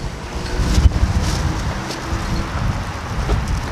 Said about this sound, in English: Can you hear the wind right now?